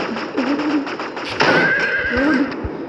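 A horse in the video game Polygun whinnies shrilly and waveringly, with a few dull thuds around it.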